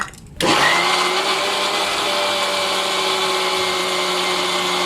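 Cake batter and biscuit crumbs churn in an electric mixer, which starts abruptly after a brief quiet moment and then holds a loud, steady whirring drone.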